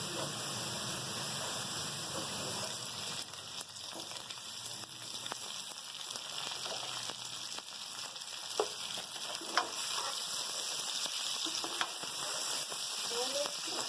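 Goat liver frying with onions in a pan, a soft continuous sizzle and crackle with occasional scraping stirs, steady and moderately quiet throughout.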